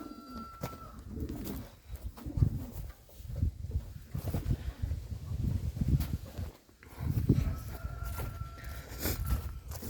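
Yellow Czech show pigeons coo in a new pigeon loft, low repeated throaty calls rising and falling over about ten seconds, with faint shuffling and footsteps nearby.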